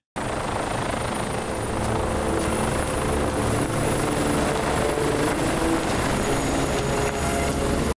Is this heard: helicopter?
yes